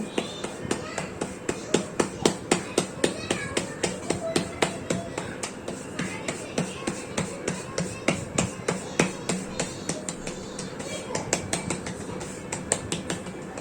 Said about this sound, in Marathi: अजून एक मी तुम्हाला थापून दाखवते कशी करायची